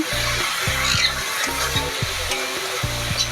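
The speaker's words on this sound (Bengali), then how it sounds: "আর এখানে কাশ্মীরি লঙ্কার গুঁড়ো আমি এখানে অ্যাড করব দিয়ে ভালো করে নাড়াচাড়া করে নেব" Kashmiri chili powder and turmeric are stirred into food frying in a pan for a potato and liver curry, with a close, steady sizzle, a recurring humming drone and rhythmic scraping strokes.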